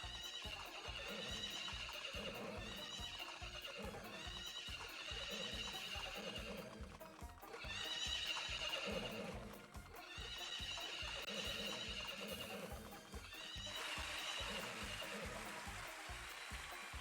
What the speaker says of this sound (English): There's horse cry.